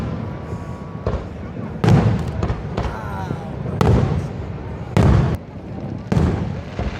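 Fireworks over Niagara Falls boom and crackle in repeated bursts about a second apart, fairly loud with rumbling tails, over a constant background roar.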